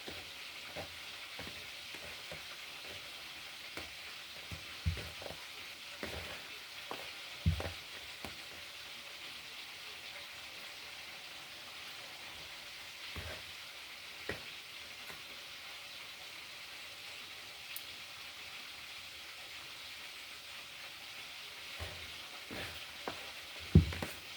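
Attiéké being stirred in a pan, a steady sizzling hiss broken by scattered scraping knocks of the utensil, close and moderately loud with no talk.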